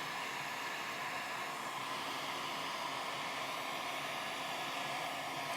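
A hair dryer blows steadily on resin, a constant close airy whoosh with an even loudness throughout and no speech over it.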